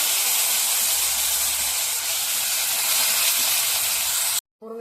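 Drumstick pieces dropped into a hot pan with browned urad dal, a loud, even steam-like hiss that holds for about four seconds and then cuts off abruptly.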